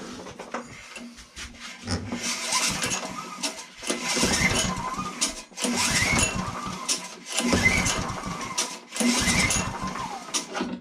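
A trash-picked lawn mower engine is pull-started several times in a row, each sharp rattling cord pull bursting into a brief chugging attempt that fails to catch, close up with no talking.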